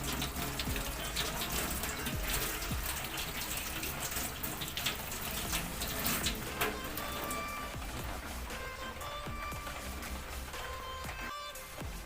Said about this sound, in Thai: นำปลาที่เราทำเสร็จแล้วมาล้างน้ำให้สะอาดครับ